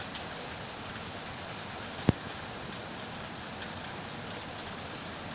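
Heavy rain pours steadily during a violent thunderstorm in Saint-Denis, a dense continuous hiss with one brief sharp knock partway through.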